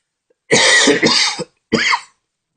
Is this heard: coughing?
yes